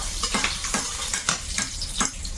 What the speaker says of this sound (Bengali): তেল দিলাম ফুলকপি ভাজাটা কেমন হচ্ছে বলো